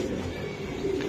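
A high-flying Giribaz pigeon coos softly over a steady background hiss, with one short, low call rising near the end of the brief stretch.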